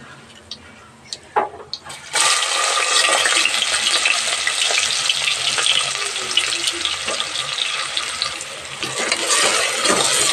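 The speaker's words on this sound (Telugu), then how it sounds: "పోపు అయింది కదా, ఆనియన్స్ వేసుకుందాం." Chopped onions hit hot oil already seasoned with cumin and dried red chillies, erupting into a loud, continuous sizzle after a few quiet clinks, with the spoon stirring through the pan.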